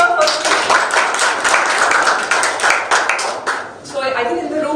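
Workshop participants in a UX design session clap and cheer together, a dense burst of applause close by that runs for several seconds before tapering off, with voices mixed in.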